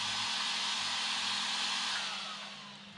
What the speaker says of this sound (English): my fans are definitely still working